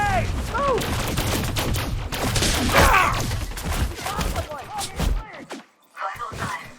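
Sustained gunfire and shotgun blasts from a firefight in the video game Elite Dangerous Odyssey, with dense rapid shots and thuds through most of the stretch before a brief lull and a final burst.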